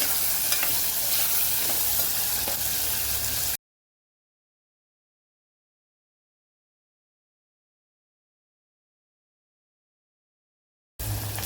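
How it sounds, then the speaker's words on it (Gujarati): Potatoes sautéing in oil for a Kathiyawadi cabbage-potato dish make a loud, dense sizzle for a few seconds, then a long silence, and the sizzle returns briefly at the end. "બટેકાને થોડીવાર તેલમાં આપણે સાતડી લેવાના છે"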